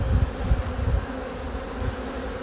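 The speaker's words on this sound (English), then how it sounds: "They're making a lot of freaking noise." Honeybees buzz loudly and steadily from an opened hive, a dense close drone with pulsing low swells through the first second.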